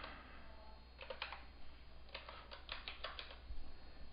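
Keys on a computer keyboard are typed in short, quiet bursts of rapid clicks over a steady low hum, with no voices.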